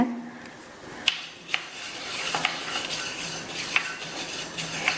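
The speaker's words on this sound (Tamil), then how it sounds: "மீடியம் ஃப்ளேமில் வச்சு இந்த எள்ளை கைவிடாமல் பக்கத்துலேயே இருந்து வறுக்கணும்" Black sesame seeds dry-roasting in a hot pan over medium flame, a soft continuous rustle with sharp metallic scrapes and taps of the spoon against the pan at irregular intervals, close and clear.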